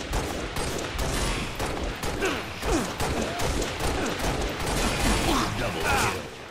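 Constant Halo gunfire from a free-for-all Slayer match on Powerhouse keeps up a steady, dense crackle of rapid shots and impacts throughout.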